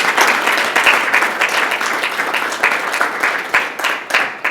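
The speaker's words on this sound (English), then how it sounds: "give yourselves a big round of applause for being present" Conference audience clapping for themselves in a loud, dense round of applause that holds steady, then breaks into looser, thinning claps near the end.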